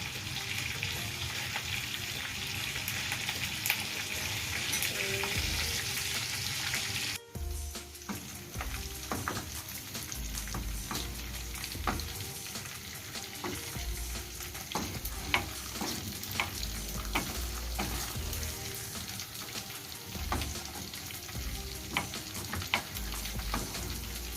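Visayan-style pork adobo with melted sugar fries and browns in a pan, giving a steady sizzle and crackle with repeated stirring scrapes throughout, close and fairly loud, with no voices.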